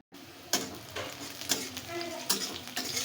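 Chopped garlic and onion sizzle in a hot pan while a spatula stirs and scrapes at intervals, with clinks of metal on cookware over a steady frying hiss.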